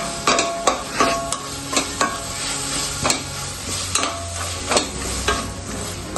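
Tomatoes sizzling and frying in masala paste for chicken biryani, close and loud, with repeated sharp scrapes of a stirring spoon against the pan at a steady rhythm.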